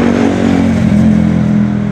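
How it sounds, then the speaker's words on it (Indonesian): A heavily loaded Hino 500 FG260 truck pulling a trailer moves slowly along a coastal highway, its loud diesel engine drone close and steady throughout, with a slight rise and fall as it passes. "dari Semarang ke Jakarta ada Hino, Hino 500 lagi teman-teman, FG260 ya. Berjalan pelan karena muatannya banyak ya"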